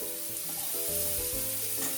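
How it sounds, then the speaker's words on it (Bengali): Prawns fry in hot oil in a pan, giving a quiet, steady sizzle with a faint hum beneath it and no voices. "দেখুন চিংড়ি মাছটা ভাজা হয়ে গেছে"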